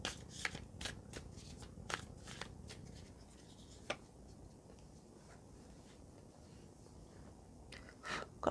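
Tarot animal spirit cards shuffled by hand, producing quick riffling bursts and soft slaps close by, fairly quiet with pauses between shuffles.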